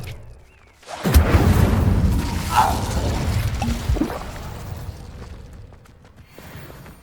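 An Incendio fire spell cast in the video game Hogwarts Legacy bursts into a loud, sustained roaring whoosh with crackling flame and a bright flare midway, then fades gradually to quiet.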